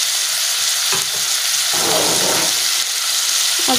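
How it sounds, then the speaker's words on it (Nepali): A little water poured into a hot cooking pot used for village-style chicken gravy sets off a loud, continuous hissing sizzle that fills the whole stretch. "सानी थोरै पानी हाल्दा यो भाँडा पखाल्नु पऱ्यो"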